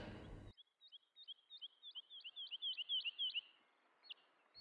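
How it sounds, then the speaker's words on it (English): Recorded birdsong plays in a gallery exhibition: a quick series of thin, high chirps repeats in an even rhythm, swelling slightly, then a lone chirp follows after a pause, faint against near silence. "as you walk around the exhibition, you hear some bird noises"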